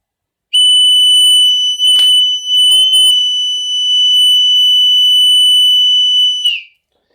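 A homemade carbon monoxide and natural gas alarm sounds a piercing, high-pitched electronic tone steadily for about six seconds, loud and close, with a few brief clicks near the start.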